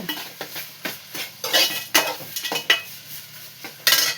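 A salt, chili and masala mix stirred and fried in a pan, with a spoon scraping and clinking against the metal in irregular strokes over a steady close sizzle.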